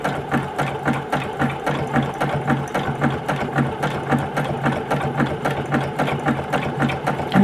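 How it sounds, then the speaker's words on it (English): A sewing machine runs steadily, its needle stitching through fabric for a table runner in a fast, even rhythm of close, loud punches with no pauses. "you can hear the needle going through all of the fibers there quite easily"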